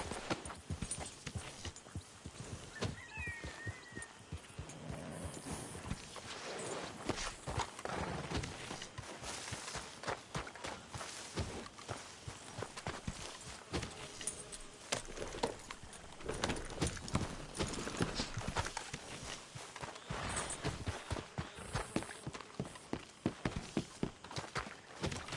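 Horse hooves clip-clop steadily in the video game Red Dead Redemption, a brisk rhythmic gait heard close and fairly quiet throughout, with no talking over it.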